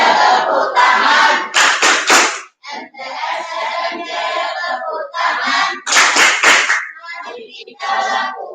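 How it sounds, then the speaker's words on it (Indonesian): A group of madrasah students at a school orientation claps in short, sharp bursts, mixed with loud group shouts and chanting voices, the clapping coming in separate rounds with brief pauses between them. "Tepuk tangan."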